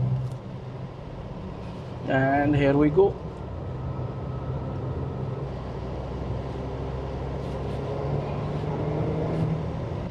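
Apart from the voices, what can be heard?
Tata Altroz Racer engine note driving on a track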